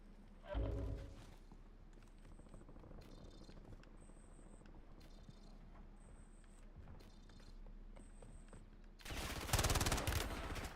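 Rapid gunfire erupts in the Call of Duty Warzone video game, with a short burst near the start and a loud sustained volley at the end. Quieter game noise and periodic beeps fill the gap between them.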